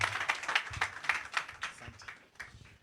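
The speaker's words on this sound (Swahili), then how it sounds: "Tumpigie makofi." An audience at a public event claps for Dennis Itumbi, a brief burst of dense, close applause lasting under three seconds.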